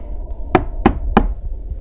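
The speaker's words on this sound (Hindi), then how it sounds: "उसके कमरे की जमीन से खटखट की आवाज आ रही थी" Three loud, evenly spaced knocks sound from beneath a floor as a horror-story sound effect. The hollow thuds are close and dry, separated by short pauses.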